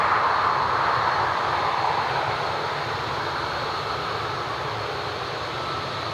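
A completely black ATR turboprop aircraft at Dublin Airport, a broad steady engine roar and rushing drone heard from a distance, slowly fading slightly across the stretch with no voices.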